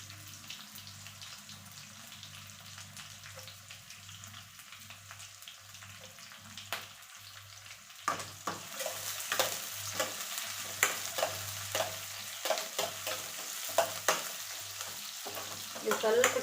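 Onion and green chillies sizzle and crackle as they fry in a pan, a steady hiss that grows louder halfway through, punctuated by the scrape of stirring, with no voices present.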